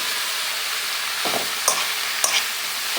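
Soya chunks tipped into hot oil with frying spices give a steady close sizzle, broken by a few sharp spoon-and-pan scrapes as they are stirred in.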